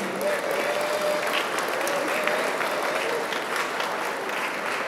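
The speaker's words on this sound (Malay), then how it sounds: "Berikan tepukan gemuruh kepada diri anda sendiri." A ceremony audience gives a sustained round of applause at a state-level National Youth Day opening in Selangor, dense steady clapping filling the whole stretch at even loudness with a faint voice underneath.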